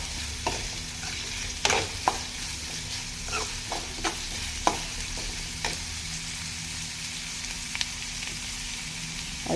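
Onion sautéing in a pan for dried fish curry, a low steady sizzle with a scattering of sharp utensil scrapes and taps at irregular intervals.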